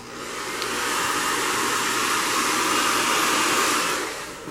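A heat gun blows steadily on faux crocodile fabric being molded around a barstool, a constant loud airy whoosh lasting throughout with no talking.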